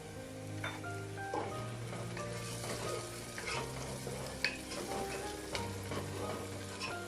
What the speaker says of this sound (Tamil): இப்போ நம்ம வச்சிருக்க பச்சை மிளகாய் சேர்த்துடலாம்.